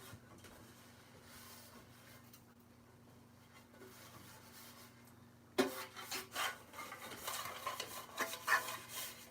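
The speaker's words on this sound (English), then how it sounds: "now that I wiped it out with a cloth" A cloth wipes out an already oiled baking pan, starting as faint scuffing and turning into loud, brisk rubbing strokes in uneven bursts for the second half.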